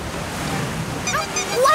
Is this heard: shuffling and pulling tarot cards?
no